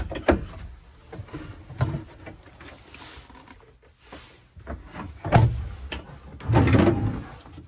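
A drawer in a 2003 Coach House Platinum Class B+ motorhome's bathroom slides open and shut, giving a few short knocks and sliding rubs close by, with quieter handling noise between them.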